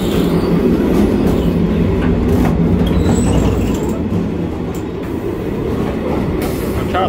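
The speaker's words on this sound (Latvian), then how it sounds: "Šis nav ātri vilciens." Continuous rumble and clatter of a passenger train rolling along rails, heard from inside, with steady wheel noise and occasional faint squeals.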